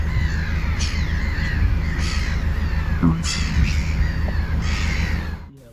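Crows caw on a Northern Ireland coast by the sea, giving four or five separate caws at a moderate distance over steady outdoor background noise; a person briefly speaks.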